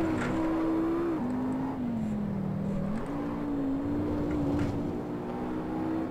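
A racing car's engine in Assetto Corsa drones steadily up close, its pitch dipping and rising as the driver lifts and accelerates through corners, with no talk.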